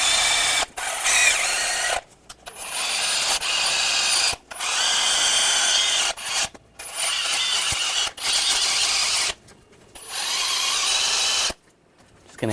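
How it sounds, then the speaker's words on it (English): A wire brush scrubs rust from the exhaust clamp bolts and nuts of a 2004-2009 Audi A4 Quattro 2.0L, making loud, harsh scraping bursts of one to two seconds each, separated by brief pauses. "I'm just going to use a wire brush, just clean up some of the rust."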